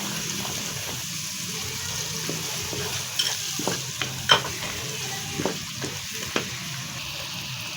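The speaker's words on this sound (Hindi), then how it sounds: "तब हम इसको अच्छी तरह से भून लेंगे। भून कर हम इसमें शलजम डाल देंगे।" A masala with ground coriander sizzles in a pan for a turnip and pea curry, with steady frying hiss and scattered scraping clinks from stirring, close and continuous. No voices.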